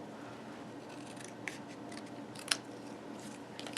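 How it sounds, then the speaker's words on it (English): Metal snips cut a 1 3/4 inch paper circle in half while making a punch-art Santa card. One crisp snip stands out against a quiet room, with a few fainter rustles of paper around it. "Bring in my snips. Just going to cut it in half."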